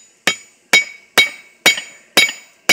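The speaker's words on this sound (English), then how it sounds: "here, I'm just going to hammer on the tip" Six sharp, ringing hammer blows strike the tip of a hot steel knife blade on an anvil while forging, evenly spaced about half a second apart and close up, each with a bright metallic clang.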